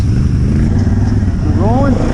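A Can-Am ATV's engine drones loudly nearby with a steady, buzzing tone, then climbs in a quick rising rev as the machine is pushed hard near the end.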